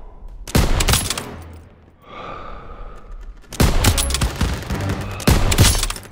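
Bursts of rapid gunfire from Call of Duty WWII ring out loud and close in two long volleys, with a short quieter pause between them and another burst near the end.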